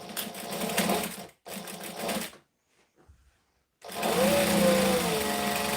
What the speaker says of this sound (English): So I'm just going to back stitch and sew to there.